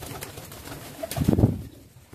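Kamagar and Golden pigeons give a brief low, throaty coo, swelling once near the end of a short moment with faint background noise.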